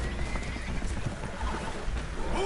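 Frightened horses neigh aboard a damaged boat that is taking on water in a video game. Whinnies and hoof clatter rise over a low rumble of water and rocking hull, with no talk.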